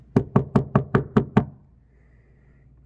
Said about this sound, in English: Behold, I stand at the door and knock.